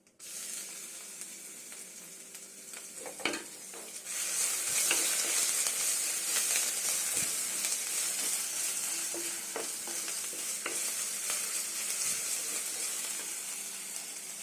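Ginger and garlic sizzle and fry in a pan for a South Indian chicken curry, a steady hiss that swells louder after a few seconds, with occasional scraping stir strokes and no talk.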